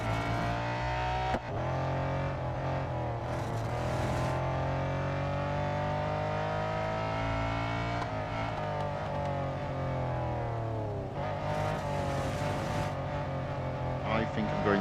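A race car in Real Racing 3 drones loudly with a continuous engine whine that rises and falls with gear changes, with brief bursts of tyre or wind noise, while a voice talks over it.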